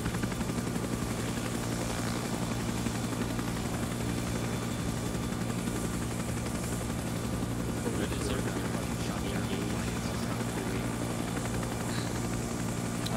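In the video game Arma 3, a helicopter comes in to land at a landing zone, a steady droning rotor and engine hum running throughout, with voices talking over it.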